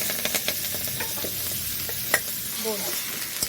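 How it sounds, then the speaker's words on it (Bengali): Shredded cabbage fries in hot oil in a pan for a Bengali koi fish dish, with a steady, close sizzle. Stirring scrapes run under the hiss, and one sharp clink cuts through midway. "এবার আমি বাঁধাকপিটা ভাজবো, লাল লাল করে বাঁধাকপি ভাজতে পারি।"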